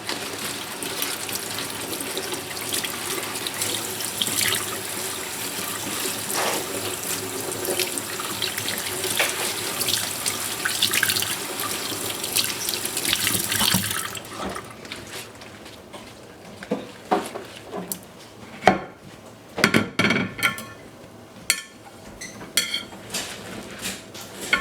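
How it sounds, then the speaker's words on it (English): A kitchen tap runs steadily while harvested Egyptian onions are rinsed beneath it, the flow hissing continuously for a while before stopping, then giving way to scattered clunks, splashes and handling knocks. "Let's rinse more."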